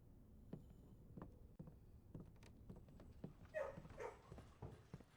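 A dog barking in the video game Blue Prince, faint, short barks scattered among soft clicks and footstep-like taps, heard at a distance with no talking.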